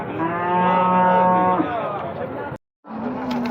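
A cow at the Bərda livestock market lets out a loud, long, close moo that trails off, then a brief pause before another low lowing begins.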